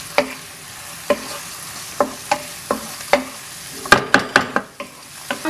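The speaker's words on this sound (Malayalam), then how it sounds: "അപ്പം അതിട്ട് നമുക്കൊന്ന് നന്നായിട്ടൊന്ന് വഴറ്റിയെടുക്കാം." Mushrooms with pepper powder sauté in coconut oil over a medium flame, for a Kerala-style mushroom roast. A soft sizzle runs under rhythmic spatula scrapes against the pan, with a quick flurry of strokes toward the end.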